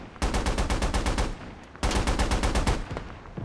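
Two heavy machine guns in the Squad video game fire long rapid bursts at a logistics truck, loud and close, in two strings separated by a short pause.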